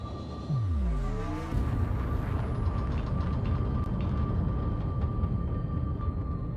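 Spaceship engines power up in Elite Dangerous, opening with a rising sweep that settles into a steady, loud mechanical rumble and hum with a constant whine, no voices present.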